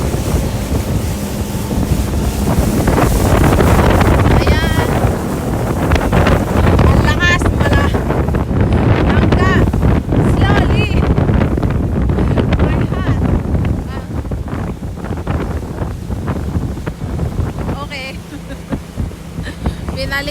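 Small boat speeding across open water, its motor drone buried under heavy gusting wind buffeting the microphone and splashing spray, loud and continuous throughout, easing slightly toward the end.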